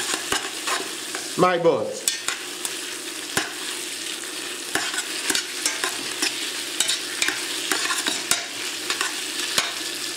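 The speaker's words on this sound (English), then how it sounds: "I'm going to mix everything together and let that tomato paste cook like 30 seconds with everything." Tomato paste and veal bones stirred together in a stock pot, a steady close sizzle with repeated scraping strokes of the spoon, and one brief spoken word.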